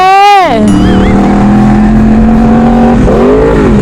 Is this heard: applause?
no